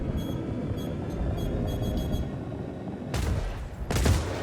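Missiles slam into a spaceship in the Star Citizen game, two loud broadband blasts bursting over a constant low rumbling engine drone, the second explosion heavier and closer.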